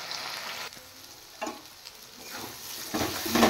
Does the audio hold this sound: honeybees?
no